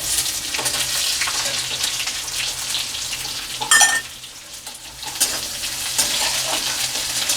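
Onion and curry leaves fry in a hot pan for a spicy puffed-rice snack, a loud, close, continuous sizzle with stirring scrapes and a brief dip midway before the frying returns.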